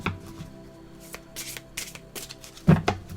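A tarot card being drawn from a deck by hand, giving soft papery shuffling and rustling with a firmer card snap near the end, close and fairly quiet, with no talking.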